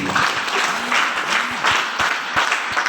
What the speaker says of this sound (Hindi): एक बार तालियां होनी चाहिए वैदिक के लिए।